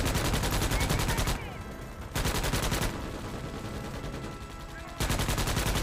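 A player's gun fires in a video game, with long rapid automatic bursts broken by short pauses, loud and close, and a few quieter stretches between volleys.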